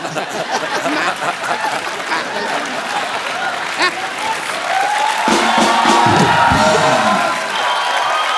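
A studio audience on a comedy talk show bursts into loud, sustained applause with cheers and whoops, a dense clapping roar that swells toward the end.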